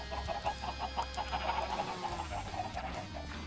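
Rapid repeated clucking from chickens in a Minecraft modpack, a quick rhythmic series of short bird calls over a low game hum, with no talking.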